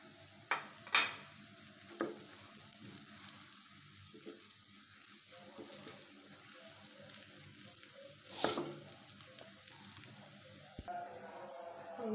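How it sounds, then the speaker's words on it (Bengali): Boiled noodles are stirred into a pan of fried chicken and potato with egg, giving a steady soft sizzle broken by sharp utensil scrapes and clacks against the pan, close and without talk. "এখন আমি এটার ভিতরে নুডলস যে আমি বয়েল করে রেখেছিলাম ওটাই দিয়ে দিচ্ছি।"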